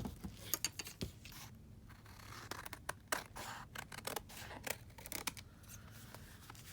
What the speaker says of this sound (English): So next thing I want to do is cut this excess off.